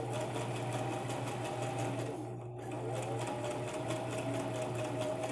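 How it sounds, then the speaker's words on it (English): A sewing machine stitches fabric for a miniature pillow, running with a steady rapid mechanical whir and motor hum, pausing briefly midway before resuming, close and fairly quiet. "I'm trying to sew very closely toward the edge"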